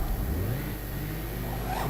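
A Ford Transit van engine revving steadily while the van is stuck, a loud continuous mid-pitched drone that holds nearly constant throughout, with no talking.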